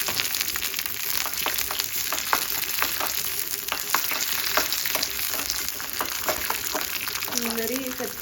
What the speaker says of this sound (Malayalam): കുറച്ച് എണ്ണയിൽ ചെറിയ ഉള്ളി കരിവേപ്പിൻ്റെ ഇട്ട്